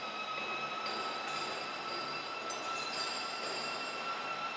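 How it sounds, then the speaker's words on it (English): A motorized hydraulic uncoiler with a disc brake runs at a roll forming machine for trailer floor planks, giving a steady mechanical drone with high whining tones and faint metallic squeals, no talking. "Here is the uncoiler, motorized hydraulic uncoiler with disc brake."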